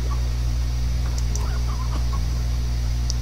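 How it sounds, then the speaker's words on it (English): A chicken in the video game Slime Rancher gives a few soft, scattered clucks over a steady low electronic hum, with short bright ticks above. "Goodbye, chicken."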